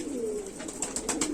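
Cooing from a Rampuri pigeon hen, a Teddy cross kept at home: a steady low throaty coo running throughout, with a few faint higher chirps toward the end.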